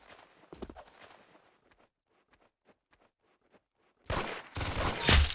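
Gunfire in the Roblox game Arsenal, faint scattered shots and taps at first, then near the end a loud burst of rapid-fire shooting close up.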